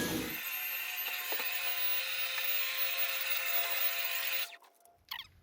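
A power sander whirs steadily with a high, gritty buzz for several seconds on a foam model rock face, then cuts off abruptly.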